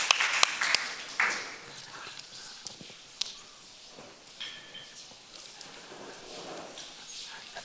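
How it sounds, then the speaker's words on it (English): An audience at a panel talk event applauds, a burst of scattered hand claps loudest at the start that thins into sparse, fading individual claps. "A big round of applause for Alexander Kluge."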